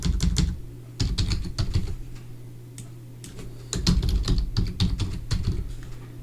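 Quick bursts of typing on a computer keyboard, close and clear, clustered in three rapid runs with short pauses between, over a steady low hum; no one talks.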